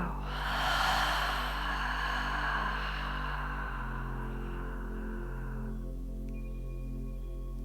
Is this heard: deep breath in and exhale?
yes